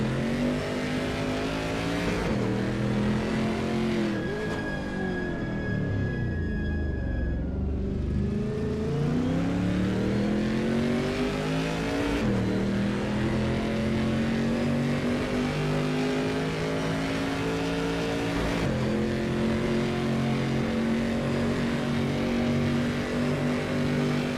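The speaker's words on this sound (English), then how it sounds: "Adam Keefe is driving through Indianapolis" Race car engines roar in a sim racing game on the Le Mans circuit, a sustained, loud engine drone that rises and falls in pitch through gear changes, braking and acceleration, with no talking.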